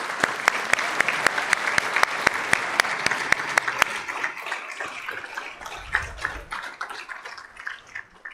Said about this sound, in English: Let's give one more round of applause for these awesome students.